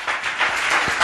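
A church congregation clapping hands together during Tamil Christian prayer worship, a dense, steady burst of many hands applauding at close range for about a second.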